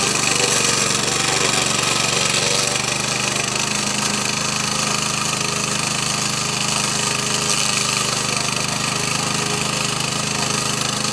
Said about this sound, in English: it will dive into the messy grass with its blades spinning at high speed